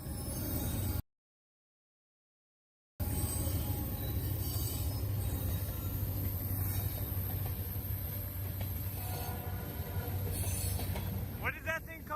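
Freight train led by Norfolk Southern and Union Pacific locomotives, including NS 8101 and UP 6748, rolling past with steady rumbling wheel noise, clattering cars and a brief squeal near the end; a short gap of silence appears early.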